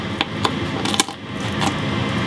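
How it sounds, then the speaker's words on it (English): Kitchen scissors crunch through a raw chicken wing joint in a few sharp, close snips and cracks, with the bone breaking amid quieter handling noise. "so this time I'm gonna try these scissors"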